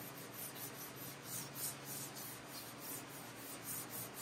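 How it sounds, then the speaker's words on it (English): A gray Scotch-Brite pad rubs over the paintwork of a 1951 Vendo 39 Coke machine being restored, making soft rhythmic back-and-forth scrubbing strokes, steady and close, with no voices. "So I always use a gray Scotch-Brite pad."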